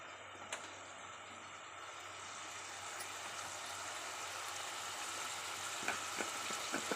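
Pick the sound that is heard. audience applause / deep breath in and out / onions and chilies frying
onions and chilies frying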